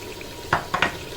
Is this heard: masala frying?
yes